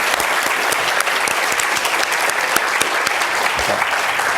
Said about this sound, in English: please join me in a round of applause to our speakers for their remarks and contributions today